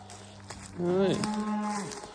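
Cattle on a farm by a fence give a single loud, drawn-out moo close by, rising then holding steady before trailing off, with faint outdoor ambience and light knocks before it.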